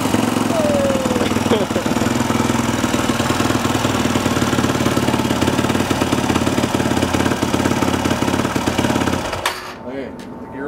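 A motorcycle engine idles steadily after a valve clearance check, a loud continuous rumble running for about nine seconds before cutting off abruptly near the end.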